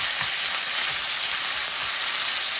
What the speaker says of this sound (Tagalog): sa isang kawali, maglagay tayo ng mantika. Tapos yung hiniwa kong chicken breast